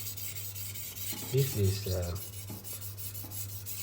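A knife blade is rubbed back and forth on a sharpener to flip the burr, making close rasping strokes over a steady background hum, with a brief spoken phrase.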